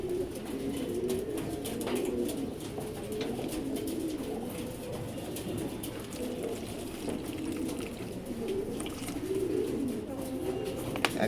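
Pigeons coo steadily throughout, a low rolling chorus of overlapping calls nearby, with faint background noise and no talking.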